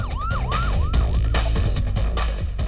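An ambulance siren sweeps up and down in a quick repeating wail, loud and near, over a thick rumble of road traffic, with no voices.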